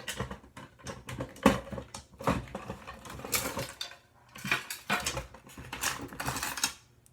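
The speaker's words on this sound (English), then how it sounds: "I can't get this stupid drawer open." A stuck drawer is yanked and forced, giving close, irregular rattling, clattering and knocking in repeated bursts, with jostling contents, and no talking.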